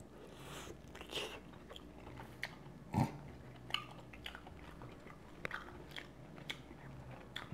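Someone chewing tender braised oxtail close to the mic, with soft wet bites and faint crunches repeating at an irregular pace, a sharper bite standing out near the middle.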